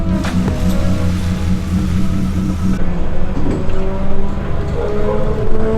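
A supercar engine running at the Oulton Park race track, a loud steady rumbling drone with shifting harmonic tones as it revs and holds, close by and without talk.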